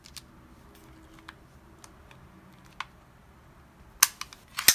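Mechanical clicks from the safety/decocking lever of a Mauser HSc pistol, a police carry handgun, being worked by hand: a few faint scattered ticks, then a louder sharp metallic click near the end with a quick follow-up.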